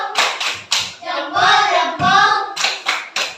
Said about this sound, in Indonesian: Beri aplaus dulu teman.